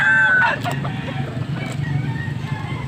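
A stag rooster in Pampanga crows loudly at the start, then fades into a busy outdoor mix of distant clucking and low background rumble.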